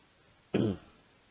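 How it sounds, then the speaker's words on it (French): A single short, close cough breaks an otherwise quiet room, one abrupt burst that fades quickly. "désolé si je tousse des fois"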